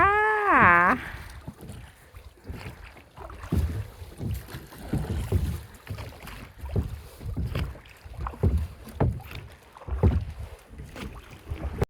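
A rowboat is paddled on open water during a fishing outing in Norway: steady, rhythmic oar strokes and water swishes repeat close by, with a brief tonal squeal at the start.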